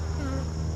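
Honey bees from a swarm near an abandoned hive buzz continuously and loudly around someone standing a short distance from the hive, a steady close drone with no talking.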